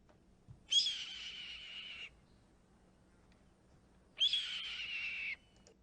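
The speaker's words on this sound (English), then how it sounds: "Red-tailed hawk call." A red-tailed hawk's screaming call plays twice from a recording, two long harsh descending screeches separated by a pause, clear against a quiet background.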